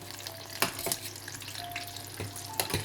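Fish kofta pieces frying in hot oil in a pan, a steady close crackling sizzle with a few sharper pops and stirring clatters, no voices.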